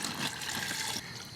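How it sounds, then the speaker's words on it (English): Water poured into a pot of dried beans on a kitchen stove, a steady close splashing and filling rush lasting the whole moment with no talk. "So we add the water,"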